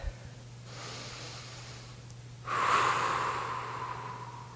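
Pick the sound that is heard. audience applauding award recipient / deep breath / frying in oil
deep breath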